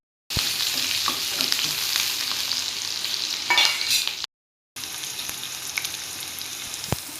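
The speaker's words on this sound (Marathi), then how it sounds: "आता ही हिरवी मिरची कापलेली आहे ना, ते टाकून घेते। त्यानंतर लसूण टाकून घेऊ। त्याला पण चांगलं परतू देऊ।" Chopped green chilies and garlic stir-fry in hot oil in a pan, a loud, continuous crackling sizzle with scraping stirs and a few sharp clicks, cut by a brief half-second gap of silence before the frying resumes just as strongly.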